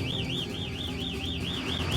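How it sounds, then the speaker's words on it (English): A fuel supply warning alarm sounds aboard the commercial fishing boat Northwestern, a continuous warbling electronic tone rising and falling in a steady rapid cycle over low engine rumble. "A warning alarm indicates a problem with the Northwestern's fuel supply."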